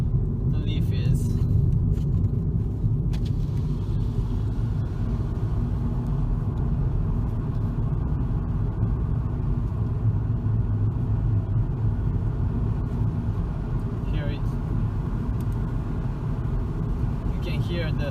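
A steady low rumble of a 2012 Nissan Leaf electric car rolling along with almost no motor whine, just road and tyre noise, with faint outside ambience through open windows, in Sardinia.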